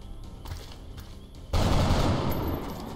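Soldiers fire guns in XCOM Long War, with a few sharp shots early on, then a loud sustained burst of automatic fire erupts near the end, close and without talk.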